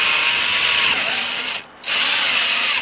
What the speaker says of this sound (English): Drill the right way.